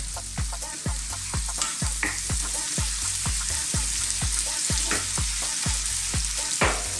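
Chopped garlic fries in a pan alongside mackerel with a constant bright sizzle, while regular low knocks of stirring land roughly twice a second, all close and fairly loud.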